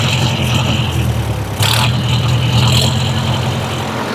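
A new Sonalika Tiger DI 60 4x4 tractor engine runs steadily and close with a low, heavy drone, rising slightly as the throttle lever is pushed up, with no voices.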